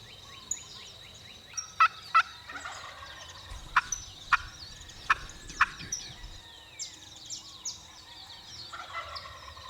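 Wild turkeys gobbling in the open, a run of sharp, rattling gobbles from a couple of birds at a moderate distance, repeated every second or so, with softer calls trailing off afterward; nobody speaks.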